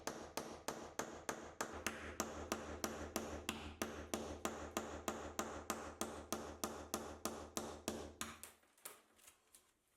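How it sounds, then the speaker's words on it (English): A hammer taps a damaged tile to break it, striking in a steady, rapid series of sharp, close knocks for about eight seconds before stopping, with no voices. "And then still hammering towards the centre,"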